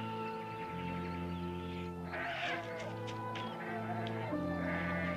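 A nanny goat bleats in long wavering cries, several drawn-out calls one after another, fairly clear against a quiet background in a drama set on a remote island.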